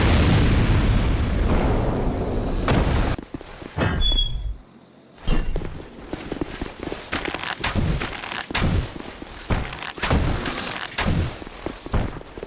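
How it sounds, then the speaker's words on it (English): Explosive barrels detonating in Dark Souls II Scholar of the First Sin, a run of booming blasts and sharp cracks repeating through the clip with a brief near-silent gap midway. "Scholar lets you shoot these explosive barrels from outside"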